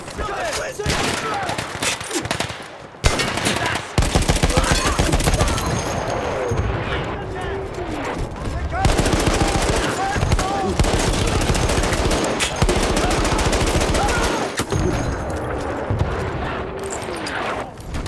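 SMG fire in Battlefield 1, long rapid bursts of automatic shots with brief pauses between them, loud and close, with a player talking intermittently over the shooting.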